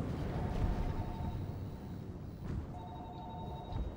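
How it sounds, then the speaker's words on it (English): A telephone rings with two clear electronic trill bursts, fairly faint, over a low murky rumble of ambient noise in the underwater video game Narcosis. "I'm not answering the fucking phone."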